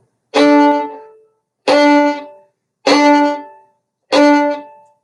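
Four separate accented violin notes from the Suzuki Allegretto, each bowed with a pinched, biting attack that then rings and decays, evenly spaced, close and clear with no voices.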